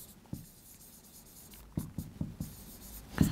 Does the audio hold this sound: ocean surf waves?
no